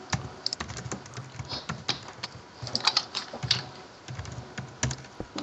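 Rapid typing on a computer keyboard during a Minecraft gaming session, a close, dense run of light key clicks in uneven bursts with no talking.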